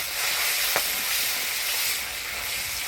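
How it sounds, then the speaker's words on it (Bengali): Dried fish sizzles in hot oil with a little salt and turmeric, a steady broadband hiss of frying that holds evenly throughout with one brief clink near the start. "সবার প্রথমে শুটকি মাছটা তেলের মধ্যে দিয়ে দিব অল্প লবণ সামান্য হলুদ"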